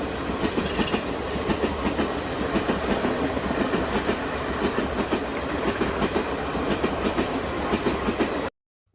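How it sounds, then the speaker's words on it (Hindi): Train arriving at a station, a loud continuous rumble with rapid clickety-clack of wheels over rail joints that runs steadily for about eight seconds, then cuts off abruptly. "दोनों स्टेशन पहुंचकर ट्रेन का इंतज़ार ही करते हैं कि ट्रेन भी आ जाती है"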